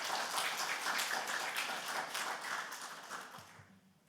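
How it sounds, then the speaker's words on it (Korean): A church congregation claps in welcome for newcomers, a dense, steady wash of applause from many hands that fades away toward the end, with no talk over it. "여러분 이분들 위해서 따뜻한 환영의 박수를"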